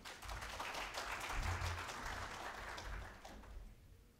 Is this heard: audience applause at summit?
yes